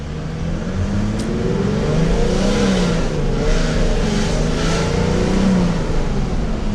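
Chevrolet Silverado Conquest pickup engine pulling hard under acceleration, a steady loud mid-range drone with rising and falling harmonic tones, close and continuous throughout with no voices.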